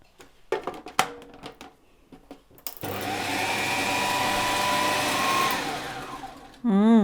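Cheesecake base of crumbs and chopped roasted hazelnuts getting a final mix in an electric mixer, starting with a few knocks and clatters, then a loud steady motor whir for several seconds before a brief different buzz at the end.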